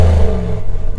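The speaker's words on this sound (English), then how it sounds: "I love the sound of a Hemi" A 2020 Ram Rebel pickup's stock 5.7-litre Hemi V8 gives a loud, deep burst of engine revving up close, strong at first and easing off near the end of a brief second.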